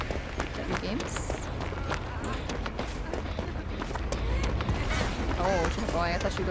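Quick light footsteps patter through Dead by Daylight gameplay, a continuous run of soft steps under busy game sounds and nearby talk.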